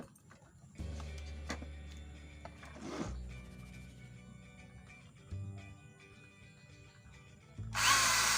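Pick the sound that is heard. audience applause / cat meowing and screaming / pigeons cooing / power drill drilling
power drill drilling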